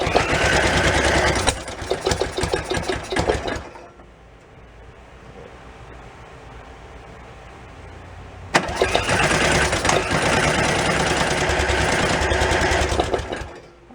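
A new engine in a Beaver amphibious vehicle, first start in 25 years, cranks and sputters loudly in a rough, rapid chugging burst, goes quiet for a few seconds, then cranks and chokes again just as harshly.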